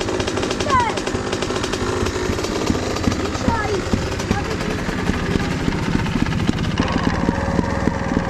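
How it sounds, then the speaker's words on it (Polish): A two-stroke trial motorcycle engine runs while being ridden, a dense rapid buzzing rattle that stays loud and steady throughout with slight revs. "jadę trialem z Kuba Chutką"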